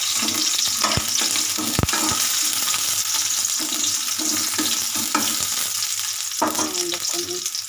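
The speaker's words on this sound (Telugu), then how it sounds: "కొంచెం ఆనియన్, మిరపకాయలు కొంచెం వేగినాక" Onions and green chillies fry in a hot pan with a steady, close sizzle that continues throughout, broken by a few sharp clinks and stirring scrapes.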